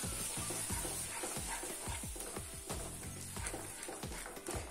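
Fish biryani masala with mild yogurt being sautéed in a pan, a steady sizzle under a fast, rhythmic scraping and stirring of the spoon, close and continuous.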